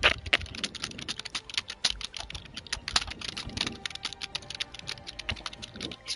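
Rapid, irregular key presses clatter on a computer keyboard as buttons are mashed during an Apex game, close and fairly quiet, with no voices.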